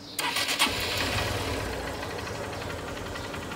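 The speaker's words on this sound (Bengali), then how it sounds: "চলেন এই ইউনিকর্নের সাউন্ডের কি অবস্থা সেটা আপনাদেরকে একটু দেখাই।" A Honda CB Unicorn motorcycle engine cranks and fires up, catching after a couple of quick bursts, then settles into a steady, close idle with no talk over it.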